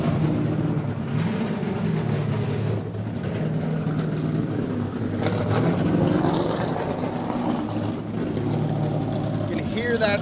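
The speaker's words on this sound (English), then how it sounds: "These engines firing up, getting ready to go for their final practice here at Richmond International Raceway" NASCAR race car engines fire up and idle in the Richmond International Raceway garage ahead of final practice, a loud, steady low rumble with overlapping tones and a voice talking over it.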